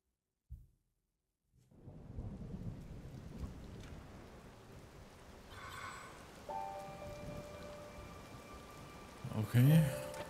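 Steady rain pours during a thunderstorm in The Legend of Zelda: Tears of the Kingdom, beginning after a brief quiet start and continuing as a constant hiss, with short game interface chimes and a swell near the end.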